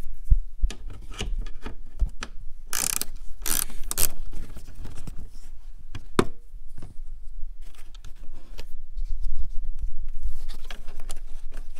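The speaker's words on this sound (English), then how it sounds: "a ratcheting wrench" 10mm ratcheting wrench turning a bolt on a Nissan Altima during headlamp assembly removal. Close rubbing and clicking scrapes with a few sharper ratchet bursts come in uneven spurts.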